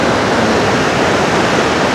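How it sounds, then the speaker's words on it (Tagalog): A strong waterfall at Ourika, Morocco, roars in a loud, constant rush of falling water that fills the whole scene without pause. "Flowing waterfalls"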